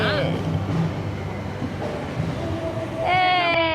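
A metro train passes through a busy area in Malaysia, a steady rumbling rail roar with rising squealing tones near the end, under crowd noise and background voices.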